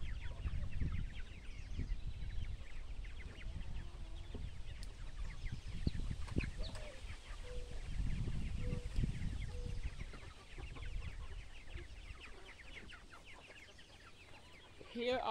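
Backyard hens cluck softly in short repeated calls, moderately close, over a steady outdoor rustle and wind noise.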